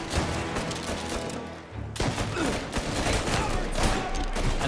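Bursts of dense gunfire from Mafia: Definitive Edition crack and rattle loudly and close, overlapping into a continuous fusillade with only a brief dip, under heavy game noise.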